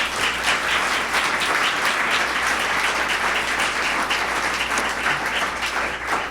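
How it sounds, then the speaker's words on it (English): An audience at a ribbon-cutting event for a Long Island City arts workspace in New York claps warmly, a steady, even wash of applause from a sizable crowd that carries on throughout. "She deserves a big round of applause."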